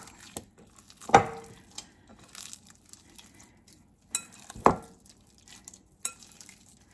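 A spoon works cheese sourdough dough in a bowl, giving soft, sticky squelches and scraping with two sharper clinks against the bowl, close and fairly quiet with gaps between strokes.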